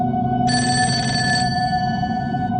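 A telephone rings at night with a call for a pizza delivery, giving a steady, bright electronic ring that is loud and alone, with no voices.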